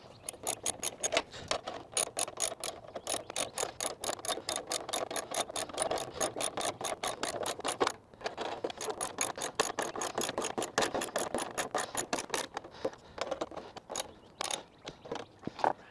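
A ratchet tightens bolts on a 2003 Toro Personal Pace Model 20017 mower, producing rapid, repeated clicking strokes up close in long bursts with a brief pause midway, and no talking.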